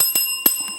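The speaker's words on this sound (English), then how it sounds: "Ring the bell." Bell rung during a Christmas carol quiz game: a few quick, bright dings with a sustained ringing tone, close and clear with no talking.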